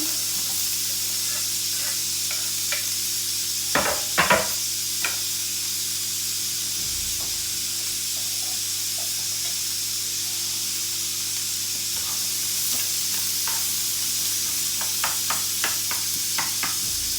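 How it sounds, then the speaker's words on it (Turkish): Onions sizzling in a frying pan, a steady hiss running throughout with a few clattering stirs and utensil knocks near the start and toward the end. "Şimdi soğanlarımı ekleyeceğim"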